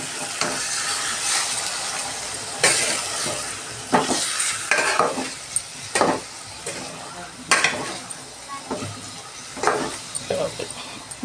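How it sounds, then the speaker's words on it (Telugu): Chicken frying in oil is stirred in a pan: scraping strokes come in bursts over a constant sizzle, close and fairly loud, with a voice talking quietly now and then. "ఆయిల్లో మగ్గింది, కలుపుతాము."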